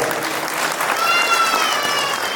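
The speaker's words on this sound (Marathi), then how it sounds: "आपण एकदा जोरदार टाळ्या वाजवूया" A crowd at a village gram panchayat development gathering breaks into loud, sustained applause, a dense continuous wash of clapping with no one speaking.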